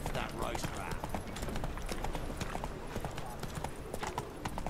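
Horse hooves gallop in The Witcher 3 video game, a steady fast clip-clop rhythm running throughout under a dense bed of game ambience, with voices murmuring faintly in the mix.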